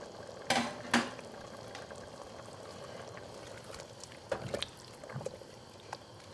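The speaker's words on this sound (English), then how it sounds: "And give it a good stir" A spoon stirs a pot of boiling jambalaya with jumbo shrimp, andouille sausage and chicken, giving a few sharp clanks against the pot and softer scraping sounds in between, close up and with no talk.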